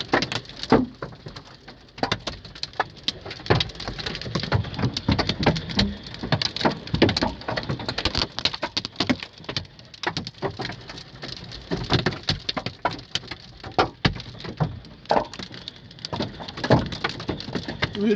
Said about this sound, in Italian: Veramente la grandine è grossa come mandarini sto giro.